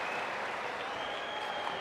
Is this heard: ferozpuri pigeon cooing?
no